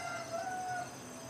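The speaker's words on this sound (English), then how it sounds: "And the rooster says it's time to go." A rooster crows at a distance, a faint drawn-out call over steady background hum, with no talking.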